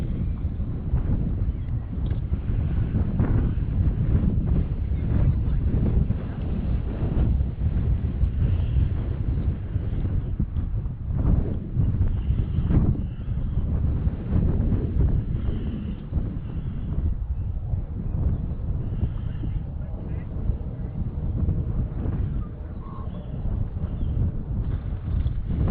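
Steady, loud wind buffets the microphone on the exposed chalk ridge of the South Downs Way, a continuous low roar with gusts and no voices.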